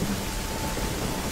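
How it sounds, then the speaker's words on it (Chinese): Rain falls in a brief, steady, broadband wash of patter during a dramatic scene, with no voices. "下雨了"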